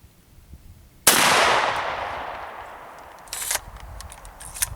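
A single sharp gunshot from a rifle chambered in 300 AAC Blackout firing reloaded ammunition, loud and close with a long ringing outdoor decay, followed by faint small clicks and rustles.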